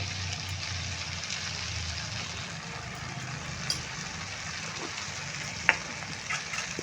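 Cooked vegetables being stirred with red chili powder in a pan while they sizzle steadily, a low hum underneath and a few sharp clinks of the spatula against the pan.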